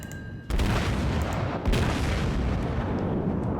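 Main guns of the Japanese battleship Ishizuki firing in World of Warships: a sudden heavy boom erupts, followed shortly by a second deep blast, both leaving a long rumbling roar that stays loud and dense.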